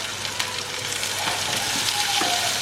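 Sliced onions sauté with salt in hot oil in a pan, a steady close sizzle with faint stirring scrapes throughout.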